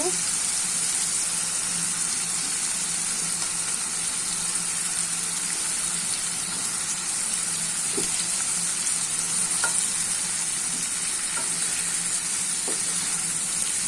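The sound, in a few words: koi fish sizzling as added to fried onion masala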